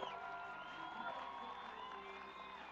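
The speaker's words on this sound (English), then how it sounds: "Wow, what a crowd." A large Las Vegas event crowd cheers and whoops continuously, with overlapping shouts and high calls forming a steady, distant-sounding roar.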